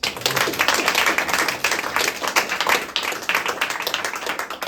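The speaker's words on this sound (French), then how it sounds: "on peut aussi l'applaudir, je pense." A theatre audience in Paris applauds the director after a Kaamelott stage show, dense steady clapping that fills the room, loud and continuous for several seconds with a few brief dips.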